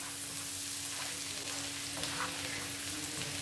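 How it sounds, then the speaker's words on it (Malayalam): Finely chopped garlic frying in a pan for a chicken dish with basil and sun-dried tomatoes, giving a steady, soft sizzle with a constant low hum underneath and no speech. "ഇപ്പോൾ ചിക്കനെയൊക്കെ മാറ്റി അതിനകത്തോട്ട് നല്ല കുഞ്ഞതായിട്ട് അരിഞ്ഞ വെളുത്തുള്ളി ഇട്ട് കൊടുക്കാം. എന്നിട്ട് അതൊന്ന് ബ്രൗൺ ആക്കി എടുക്കണം."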